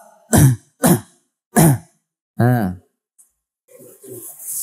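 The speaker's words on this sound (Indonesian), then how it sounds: "Berdehem 3 kali" A person clears their throat three times in quick succession, loud and close, then gives a short voiced grunt before quiet rustling.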